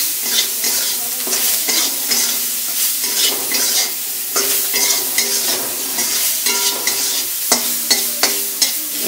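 Onion, garlic and turmeric frying in mustard oil while being stirred, a loud close sizzle broken by repeated rhythmic scraping and clinking strokes of a utensil against the pan, with no talking.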